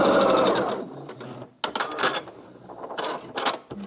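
A sewing machine stitching a quilt block seam, starting with a fast continuous whirring run, then pausing before short bursts of rattling stitches and clicks, heard close up.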